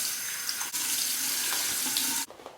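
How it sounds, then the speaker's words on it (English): A cold water rinse runs from a bathroom tap in a steady hissing stream, nearby, briefly interrupted once before it stops abruptly near the end. "Finish up with a cold water rinse."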